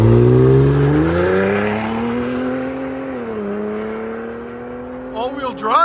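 A straight-piped, all-wheel-drive 500 hp Saleen Ford Explorer pulls away, its loud exhaust drone rising and shifting in pitch as it recedes, with brief voices and cheering near the end.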